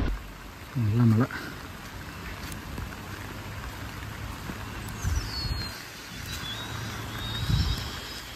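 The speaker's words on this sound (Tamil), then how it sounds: "நல்ல மழை." Rain falls near the Kuthumkal waterfalls in Munnar, Kerala, a steady close patter, with a brief voice early on and a few faint bird-like chirps.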